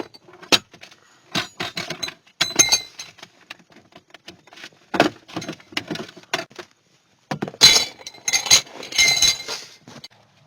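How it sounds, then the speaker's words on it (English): Metal pieces of a Ford Ranger's jack and lug wrench clink and clatter in separate bursts of sharp knocks and rattles, heard close up with short pauses between handlings. "And you take out the wrench components."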